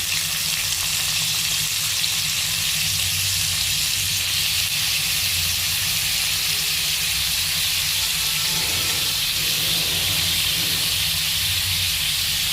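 Chopped onions frying in hot white oil in a wok, a loud, continuous hiss and sizzle that holds steady throughout, with a few faint stirring scrapes toward the end and no talking.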